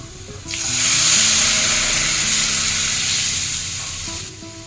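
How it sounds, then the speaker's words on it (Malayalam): Second coconut milk is poured into a simmering potato stew, raising a loud, close, broad hissing sizzle that swells and then slowly fades. "ഇനി നമുക്ക് 2ാം പാൽ ഒഴിച്ചു കൊടുക്കാം കേട്ടോ."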